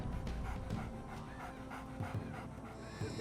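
A search and rescue dog pants in quick rhythmic breaths, close and steady, alongside some background noise during a water rescue.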